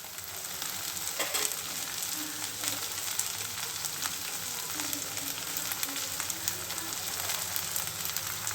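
Okra pieces frying on low heat in a pan, a continuous soft sizzle with light crackling and occasional stirring, moderately quiet and close, no talking.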